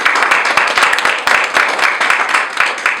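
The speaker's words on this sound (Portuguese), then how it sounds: "Uma salva de palmas para a palavra de Deus." Congregation applauding in a church, a dense, steady wash of many hands clapping together for the full stretch, fairly loud and close, with no talk over it.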